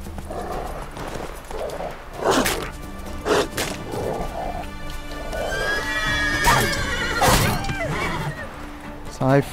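A horse whinnies several times in The Witcher 3, with clip-clopping hooves and game sounds around it, while someone talks over the action.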